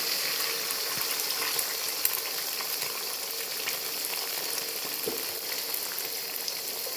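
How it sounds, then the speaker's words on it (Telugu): Five eggs sizzle in a hot pan over golden-fried garlic, a steady close hiss of frying oil with a few faint pops and no talking. "ఇప్పుడు ఇందులో ఒక ఫైవ్ ఎగ్స్ పోసుకుంటున్నాను"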